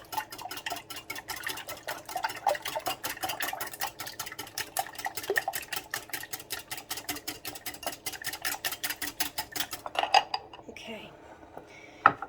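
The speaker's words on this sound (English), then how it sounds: "We'll go ahead and whisk this to combine" Whisking gluten-free vanilla donut batter sweetened with blue agave in a bowl, making a fast, steady clatter of whisk wires against the bowl that runs for several seconds before slowing into a few scattered clinks.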